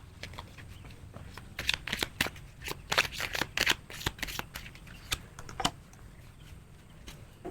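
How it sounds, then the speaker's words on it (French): Tarot cards are handled and laid down one on another, making a run of crisp paper flicks and light slaps, clustered and irregular, close and fairly quiet, with no talking. "Je vais poser une autre carte dessus."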